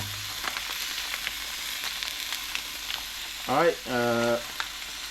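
Ground beef sizzles and fries steadily in a pan for taco filling, with scattered scraping taps; someone speaks briefly near the end.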